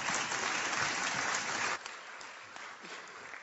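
An indoor conference audience applauds, loud dense clapping that drops off abruptly to thinner scattered claps and a brief cheer.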